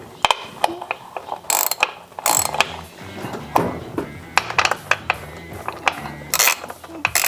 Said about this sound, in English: let's get these bolts off this valve cover